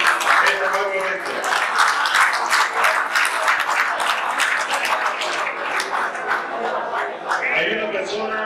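A crowd at an international billiards tournament applauds loudly and continuously for several seconds, a dense wash of many hands clapping at once.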